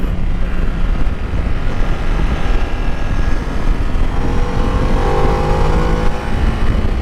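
A 2023 Ducati Desert X motorcycle rides along a road, its engine droning loud and continuous with rising pitch under strong wind rush, no voices.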